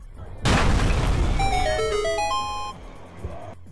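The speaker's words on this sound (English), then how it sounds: "shooting it to cause an explosion" A fuel canister shot and exploding in the video game Manhunt, with a loud sudden broadband blast that rings out and decays over a couple of seconds, overlaid by bright tonal game chimes.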